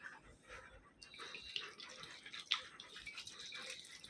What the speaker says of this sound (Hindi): अभी पानी डालेंगे,